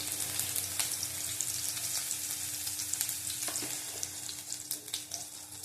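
Chopped garlic sizzles in hot oil in a pan while making methi katla fish, a constant crackling fry with occasional stirring scrapes, close and moderately loud with no voices.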